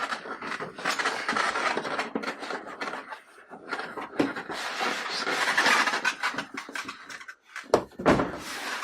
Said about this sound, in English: There's some styrofoam and some squeaky noises.